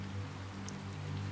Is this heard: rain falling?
yes